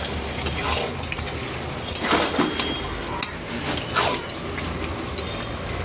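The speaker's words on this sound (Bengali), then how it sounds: "এবার একটু পনির দেবো, একটুখানি নাড়িয়ে নেবো" Paneer with spinach and vegetables being stirred in a pan, with close metallic scraping and clinks of a spoon against the pan over a steady wet cooking hiss, a few louder scrapes standing out, no talk.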